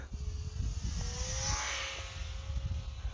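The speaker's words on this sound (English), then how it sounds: "I like the sound of that gearbox. It's loud, but it's kind of fitting for a plane like this." An Eachine T-28 RC plane flies overhead with a loud, whining gearbox, its steady high drone rising and falling slightly as it passes, over rumbling wind noise.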